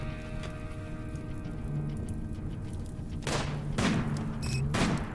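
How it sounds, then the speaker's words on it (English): Sniper rifle fire in the video game RimWorld, a few sharp cracks spaced apart near the end, each with a brief decaying tail, over a steady low background bed of game ambience and no talking. "Let's see if we can get some long shots on these guys."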